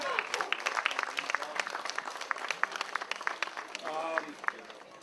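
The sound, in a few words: crowd applause for the cooks at a picnic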